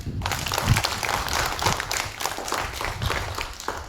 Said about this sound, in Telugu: ఒకసారి క్లాప్.